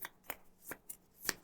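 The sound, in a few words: playing cards being shuffled into a deck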